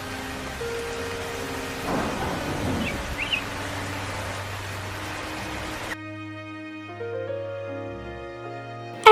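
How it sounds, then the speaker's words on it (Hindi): Steady cartoon rain hiss fills the first six seconds with a faint rumble beneath, then cuts to a quieter scene with sustained musical tones; no one speaks. "अरे ये तो बारिश का मौसम लग रहा है।"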